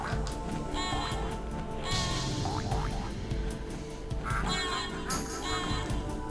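Geese in the PS1 game Frogger honk and quack repeatedly over a busy, steady bed of game music and effects, the calls clustering in bursts near the start and again later.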